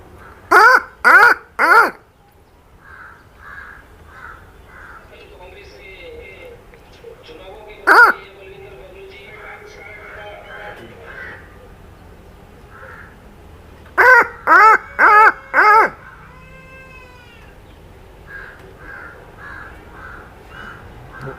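A man mimics a crow's cawing outdoors, giving short bursts of two or three sharp, loud caws with long gaps between them, while faint birdsong and quieter chirping carry on underneath.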